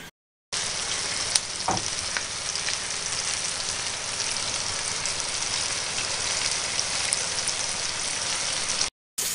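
Yellow belly fish fillets fry in a pan, giving a steady, even sizzle that runs unbroken for several seconds at close range, with a faint low hum underneath.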